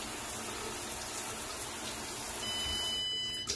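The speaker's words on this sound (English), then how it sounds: "And there's the water running." Steady broadband water hiss from a running shower throughout, with a faint high electronic beep from an Arduino shower timer appearing near the end.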